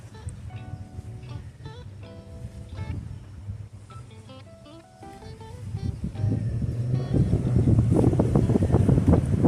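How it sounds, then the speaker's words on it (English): Strong wind blows outdoors beside a stand of ripe plantains, a rumbling roar that builds over time. Faint tonal sounds and knocks drift over it early on. "As you can hear, it's very windy"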